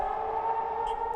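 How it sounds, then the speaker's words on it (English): A steady, sustained air raid siren wail on the streets of Tallinn during a drill holds a constant pitch throughout, droning loudly without pause and with no voices present. "Air raid sirens on the streets of Tallinn."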